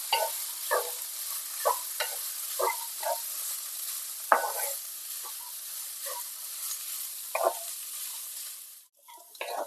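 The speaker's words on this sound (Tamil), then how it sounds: "கொரகொரப்பா அரைச்சி வச்சிருக்கிற இந்த தேங்காய் எல்லாத்தையும் சேர்த்து நல்லா கலந்து விட்டுக்கலாம்" A spoon stirs beetroot chana palya with coarsely ground coconut in a pan over low heat, giving repeated short scraping strokes about once a second over a steady soft sizzle, close by with no voices.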